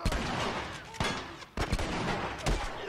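Gunfire in a shootout in The Last of Us video game: several sharp, loud shots at irregular intervals over a dense, noisy combat background.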